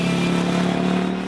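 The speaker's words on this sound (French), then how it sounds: "Cette voiture légère à châssis tubulaire est propulsée par un moteur Ford de 300 chevaux." A light tubular-chassis Lamera Cup race car with a 300 hp Ford engine drones steadily on a racing circuit, a constant loud buzzing engine note that holds even for a brief moment.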